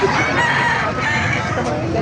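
A rooster crows faintly in the distance, half buried under steady outdoor noise at a chicken market in Calumpit, Bulacan.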